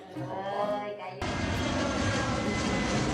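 A jet airliner sound effect: a broad, steady roar that cuts in abruptly after a second of voices and holds loud to the end.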